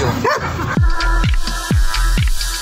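A dog barks in a repeated series of sharp, close woofs, preceded by a high, whining whimper.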